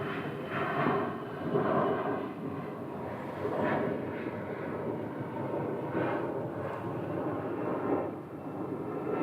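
A SkyWest airliner taking off from runway 25 right, a broad, steady jet roar rumbling continuously at moderate distance, rising and falling slightly in waves with no voices over it.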